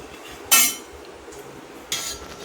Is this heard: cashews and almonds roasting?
yes